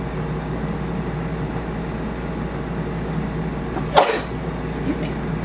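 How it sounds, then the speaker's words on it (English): A single sneeze triggered by ground pepper while cooking at home, sharp and brief, rising out of steady kitchen background hum near the end. "Now I'm about to sneeze."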